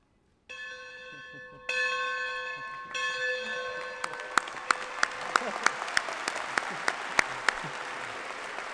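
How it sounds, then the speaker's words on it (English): Commencement bell rung at a university graduation ceremony: a few sustained metallic bell tones ring out, then sharp repeated strikes continue over rising applause from the crowd. "The bell ringing at commencement symbolizes the student completing and earning the bachelor's degree."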